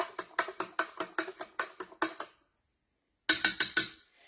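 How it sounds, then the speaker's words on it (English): A spoon stirs a blueberry margarita mocktail in a glass, giving a quick run of about a dozen bright, close clinks, then a pause and a short final burst of four or five clinks. "We have our spoon. Just stir it up some."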